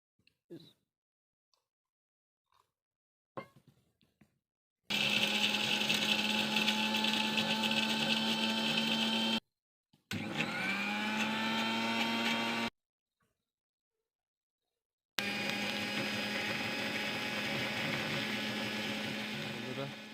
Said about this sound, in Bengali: বাদাম আর পোস্ত আমরা পেস্ট করে নেব মেশিনে।